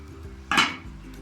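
A single metallic scrape of a spoon in a pot while stirring dal mash after adding coriander powder, short and fairly close, against quiet background hum.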